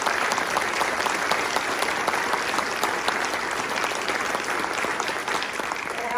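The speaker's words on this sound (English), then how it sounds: "So could we please just do a round of applause for the team today?" An audience at a military hospital change of authority and retirement ceremony at Fort Belvoir gives sustained applause. The clapping is full and steady, dense throughout, and trails off only slightly at the end.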